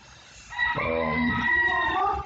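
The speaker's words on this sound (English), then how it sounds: "disturbances just like that, chickens" Chickens cluck and call close by, a busy run of overlapping squawks with one crow-like cry, steady throughout with no talking.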